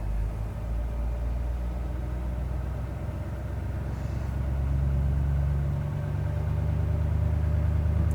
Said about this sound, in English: If you turn elevated idle back on the switch, rapid heat, it does rev back up.